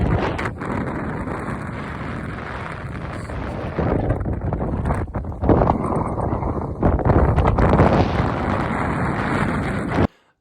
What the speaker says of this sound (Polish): bardzo silnego wiatru